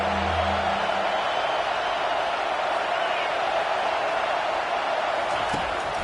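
A stadium crowd in an NCAA football video game keeps up a constant loud roar, while a commentator's voice briefly comes through near the start.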